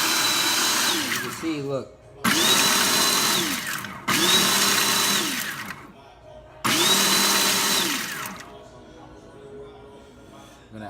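Blender whirring through aji verde sauce in three loud bursts of roughly two seconds each, rising and settling in pitch, with brief pauses between and a voice speaking in the gaps.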